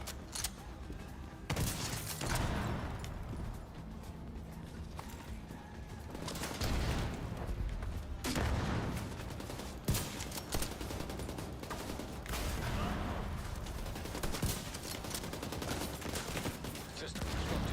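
Sustained gunfire in The Division 2, heavy automatic bursts and overlapping shots rattling loudly and nearly continuously up close.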